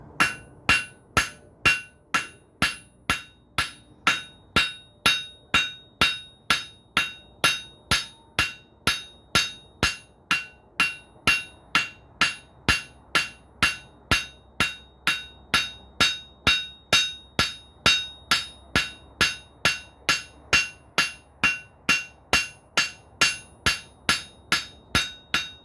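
A hammer strikes metal over and over in a steady, even rhythm, forging and flattening a belt buckle, with sharp close ringing blows, about two per second, with no talk.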